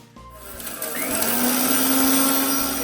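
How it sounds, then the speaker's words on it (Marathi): An electric mixer-grinder whirs into a steady high motorised whine as it powders a cooled, roasted masala of whole spices, including cardamom, for kadhai paneer. The pitch rises as the motor spins up, then holds loud and continuous. "आपण बारीक करून घेऊ."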